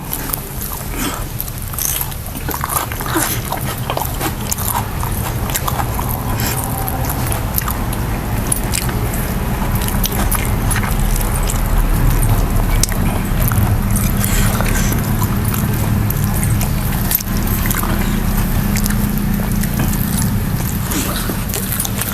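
Someone eats spicy village-style dry mutton sukka, with steady close chewing, biting and wet squishing sounds running continuously and fairly loud against a low background rumble.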